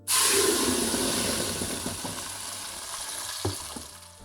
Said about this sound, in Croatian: U vrelo ulje dodajemo polako smjesu.